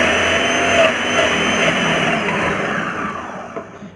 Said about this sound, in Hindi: मिक्सी चालू करने पे बढ़िया पिस भी जा रहे हैं